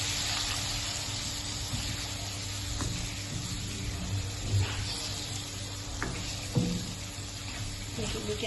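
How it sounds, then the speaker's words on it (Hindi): Beef nihari meat and spices fry in a pot with a steady sizzle, stirred now and then with occasional scraping knocks, the cooking noise continuous and close. "सारे मसालों को अच्छी तरीके से भूनेंगे गोश्त के साथ।"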